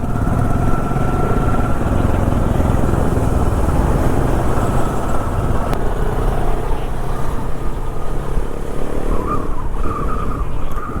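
A group of riders on KTM Adventure 390 motorcycles cruising on the road toward Palakkad, with a loud, continuous wash of engine drone and wind and road noise that stays steady throughout, and no talking.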